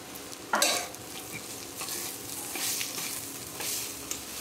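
Grated fresh coconut dropped into a hot tempering in a pan, a loud sizzle bursting at the start, then steady frying crackle with spoon stirring and scraping throughout.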